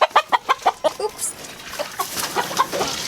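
Chickens in a Ugandan village cluck in a quick run of about seven sharp, evenly spaced calls, then softer scattered clucks and rustling continue at close range.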